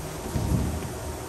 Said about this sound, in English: You might hear some thunder in the background.